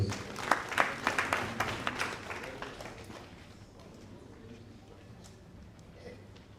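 Attendees at a budget hearing in Freetown clapping for a speaker, a burst of crisp claps that tapers off after a few seconds into quiet room tone with a faint voice.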